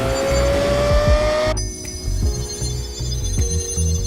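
A high-revving 4.8-liter V10 Lexus LFA supercar engine screams upward, then abruptly drops to a throaty, burbling idle with small throttle blips, loud and close.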